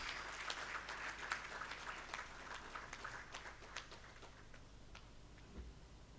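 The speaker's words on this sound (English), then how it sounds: "A big round of applause for him, please." Faint applause in a hall at the inaugural ceremony of the PRISM-FIMC 2025 conference, a burst of clapping that thins and fades out over several seconds, distant and low in level.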